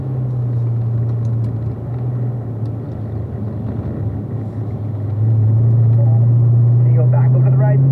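A race car engine drones loudly on a rain-soaked track during a wet session, a steady heavy rumble that climbs in pitch and grows louder as the throttle opens partway through.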